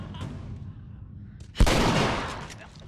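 One loud, close gunshot in The Last of Us, a sharp blast with a decaying tail after a quieter, rumbling stretch.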